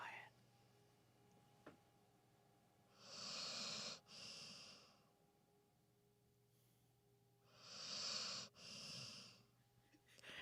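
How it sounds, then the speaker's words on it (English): A puppy snores softly nearby in a quiet room, two slow drawn-out wheezy breaths several seconds apart, each a raspy airy rumble, with faint background hum between. "Can you guys hear ASMR puppy snoring?"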